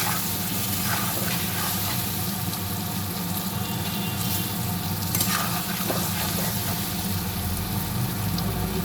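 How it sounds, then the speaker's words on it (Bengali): Potatoes and taro sizzle steadily in a pan, a dense, continuous frying hiss with occasional crackles and stirring scrapes, close and even throughout with no voices. "আলু আর কচুটা আমি ভালো করে ভেজে নেব।"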